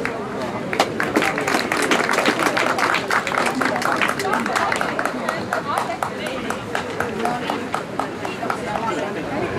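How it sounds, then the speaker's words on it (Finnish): An outdoor crowd at a market-day firewood-splitting contest applauds the prize winners, a sustained, rapid patter of many hands clapping at moderate distance, steady throughout with voices faintly mixed in. "annetaan kaikille palkinnot ja valtavat aplodit"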